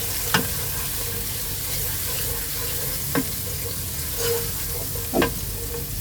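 Garlic paste sautéing in oil in a pan gives a steady, close sizzle, with a few sharp scrape-and-stir clicks of a spoon along the way.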